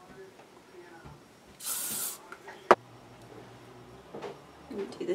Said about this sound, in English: I'm going to go ahead and spray it really well.